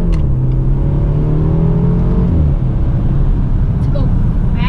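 A BMW 3 Series Gran Turismo's engine revs and pulls hard on back roads, a steady loud drone rising in pitch, then dropping as it shifts, heard from inside the cabin.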